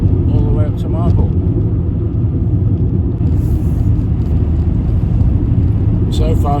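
A VW Golf MK3 cruises steadily at about 50 mph on a country road, heard from inside as a constant low engine and road rumble, with brief faint voice-like sounds near the start and end.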